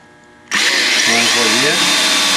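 A hand-held power drill bores holes, starting abruptly after a quiet moment and then whining loudly and steadily, its pitch wavering slightly as it cuts.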